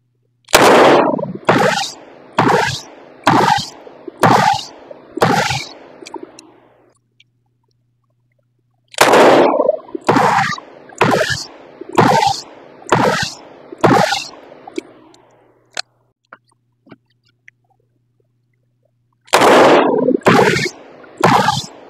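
A 6-inch Ruger GP-100 revolver fires at a 50-foot range: loud, sharp reports come in strings of about six evenly spaced shots, with a silent pause for reloading between strings and a third string starting at the end.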